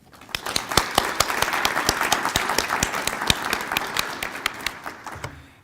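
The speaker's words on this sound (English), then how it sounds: "let's give him a round of applause for this award." An audience at a foundation donor appreciation and scholarship celebration applauds an award recipient, crisp scattered claps building into steady applause from a modest crowd before tapering off.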